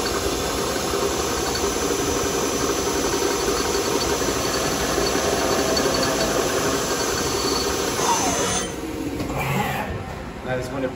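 A machine cuts a metal part during machining, giving a loud, continuous high squeal with grinding and rattling underneath. The noise drops and thins near the end.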